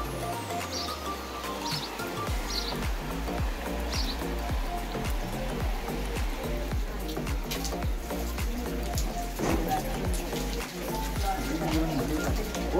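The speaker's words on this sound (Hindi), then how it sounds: "आपको मौसम दिखाते हैं बारिश का" Rain falls along the Yamunotri pilgrimage route, making a steady patter with scattered drips and faint bird chirps, and voices are heard in the background.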